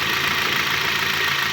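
A 2011 Hyundai H-1 van engine idling with a knocking fault, a steady loud mechanical idle with a rough, rapid ticking knock throughout, recorded close to the engine with no voices.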